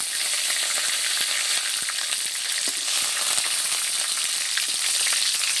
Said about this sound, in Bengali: তেলে দেওয়ার সাথে সাথে কিন্তু একটা ছ্যাঁক করে উঠবে